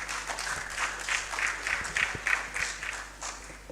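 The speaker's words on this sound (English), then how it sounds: "Please give everyone a round of applause." An audience at a leadership training session gives a round of applause, a dense, steady patter of many hands clapping at moderate volume that swells and eases slightly throughout.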